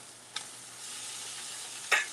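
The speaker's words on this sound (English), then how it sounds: "So the pork chop is now frying." A pork chop fries in a pan with a steady, close sizzle and hiss, broken by a couple of brief, sharper crackles and spatters.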